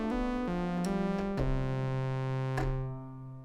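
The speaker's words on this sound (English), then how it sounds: "pretty nice reverb sound" An Arturia Buchla Easel V synthesizer plays a series of sustained, stepping tones drenched in reverb, each note ringing on and the last one fading into a lingering wash.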